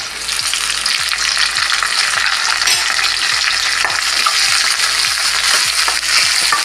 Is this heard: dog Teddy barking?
no